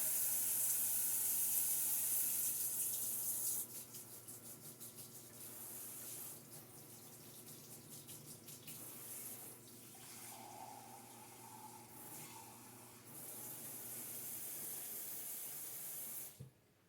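Warm tap water runs from a kitchen faucet as bread dough is prepared, a steady close hiss and splash that softens partway through and then continues until the flow stops near the end.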